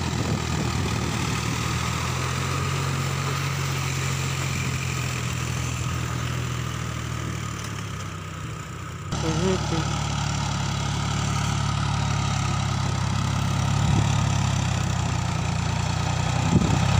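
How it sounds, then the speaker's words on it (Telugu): A tractor puddles a wet field to prepare the soil before sapling planting, its engine a steady low drone that shifts in tone partway through and then carries on unbroken, with no voices. "ట్రాక్టర్ సహాయంతో దమ్ము చేస్తున్న దృశ్యాలు"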